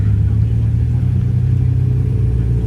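Blue McLaren GT sports car at a Goodwood supercar breakfast meet, its engine giving a loud, steady low rumble with a faint idling pulse, close by and constant.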